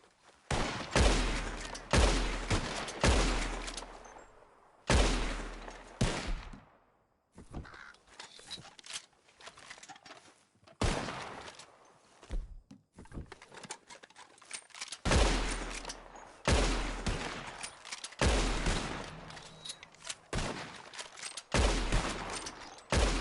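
Loud bursts of rapid gunfire in an action movie scene, several separate volleys of sustained shooting spread over the stretch with short quiet gaps between them.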